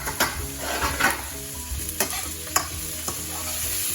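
A teaspoon of cumin seeds crackling in hot oil, a loud close sizzle with quick popping and stirring scrapes over a low kitchen hum, with no voices.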